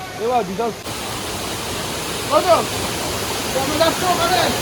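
Waterfall at a spot visited to bathe, a steady broad rush of falling water throughout, with people talking over it.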